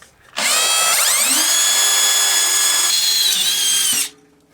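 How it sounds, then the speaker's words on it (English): A power drill spins up with a rising whine and bores steadily through two pieces of metal into a block, a loud close high-pitched grind lasting a few seconds before it winds down. "now we'll drill its hole into the block through the 2 pieces of metal"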